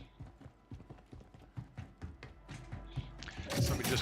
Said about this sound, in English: I almost feel like your own footsteps are sometimes delayed.